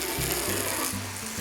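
A homemade high-pressure bike and car washer sprays through a foam gun, producing a loud, steady hiss layered over a buzzing motor whose pitch steps up and down in short stages.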